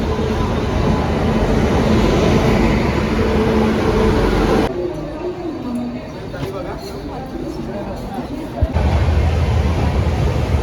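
Steady rumble of a passenger train interior while riding, loud and continuous, dipping quieter for a few seconds in the middle before the full roar returns with a brief knock.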